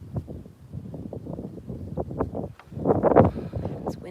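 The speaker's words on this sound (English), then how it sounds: "The wind's blowing" Wind blows through an open park with wildflowers and mown wetland edges, rumbling and buffeting against the microphone in uneven gusts, swelling louder near the end, alone without talk.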